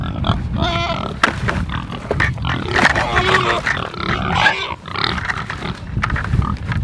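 Meat pigs on a family homestead at feeding time grunt and squeal in a loud, crowded chorus that runs continuously and close by throughout.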